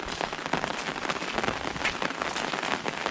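Steady rain pours over fields during the rice harvest near sugarcane, a dense, even hiss of drops on surfaces, close and unbroken, with no voices.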